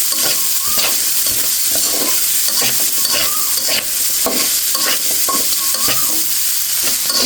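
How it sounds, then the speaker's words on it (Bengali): Loud, continuous frying sizzle with frequent scraping strokes of a spatula stirring onion, green chillies and potato in a pan, close up and steady throughout. "দিয়ে দিচ্ছি পেঁয়াজটা আলুর সাথে একটু ভেজে নেব কাঁচামরিচকে"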